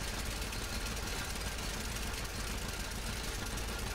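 An International tractor in Farming Simulator 17 idles with a rough, steady, knocking engine rumble that holds constant and somewhat faint, with no pauses and no voices.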